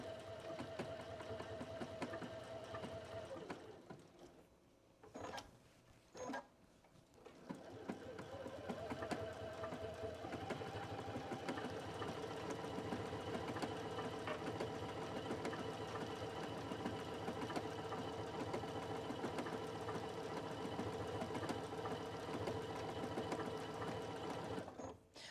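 A home sewing machine with decorative stitches runs fast while stitching an envelope pillow made from cathedral window quilt blocks, a steady close whirring hum with a brief pause and restart early on, mostly alone.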